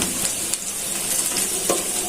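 Potatoes fry in hot oil with a dense, steady sizzle and faint stirring scrapes, close and continuous with no talk.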